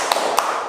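Church congregation doing the rhythmic 'tepuk salut' clap at a Catholic children's service: two sharp, fairly close claps in quick succession over a soft room hum, with no talking.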